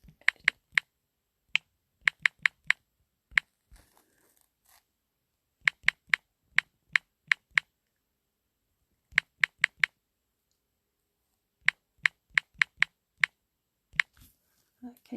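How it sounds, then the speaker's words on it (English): Keys on a computer keyboard are tapped in short clustered bursts, crisp close clicks separated by silent pauses, with no talk. "let me type this in for you"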